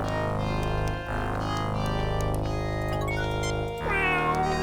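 A cat meows in the Star Trek: Judgment Rites video game over steady, synthesized background music, with a drawn-out meow and a second call near the end; no one speaks.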